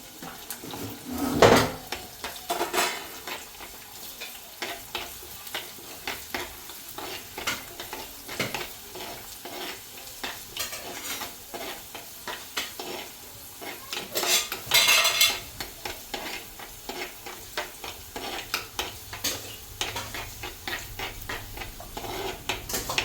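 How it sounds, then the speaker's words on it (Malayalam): Ginger, green chilies and shallots fried in a pan, a spoon clinking and scraping as it stirs over a low, steady sizzle, with a few louder knocks against the pan. "ഇഞ്ചിയും പച്ചമുളകും ചെറിയുള്ളിയും കൂടി ഇട്ട് നന്നായിട്ട് അങ്ങ് മൂപ്പിക്കുക"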